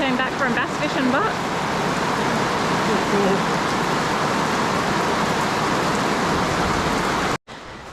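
Steady heavy rain pours down on a campsite in Oxley Wild Rivers National Park during a storm front, a dense continuous hiss with voices briefly audible at the start and a momentary dropout near the end.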